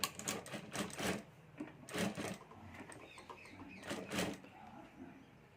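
A sewing machine stitches fabric folded over piping while a handbag is made, running in several short bursts of rapid mechanical whirring separated by brief pauses, fairly close and moderately loud.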